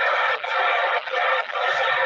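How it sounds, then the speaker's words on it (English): Untuned radio static, a dense continuous white-noise hiss that stays loud and steady with brief dips, heard alone with no voices. "That's white noise. That's simply a combination of all noises coming out of a radio, right?"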